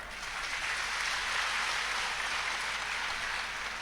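Satsang audience clapping loudly and continuously, a dense even roar of many hands sustained throughout, full and close with no pauses.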